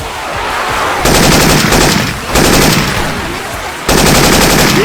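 Loud bursts of rapid automatic gunfire from Syphon Filter weapon sound effects in Left 4 Dead 2, coming in three long volleys separated by brief pauses, with faint game voices underneath.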